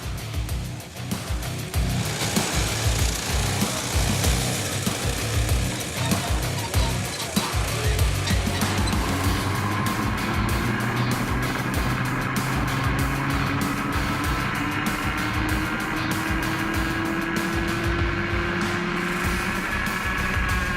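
Cadet class go-karts racing, their small engines whining loudly and continuously close by, with pitch rising and shifting as they accelerate through the run.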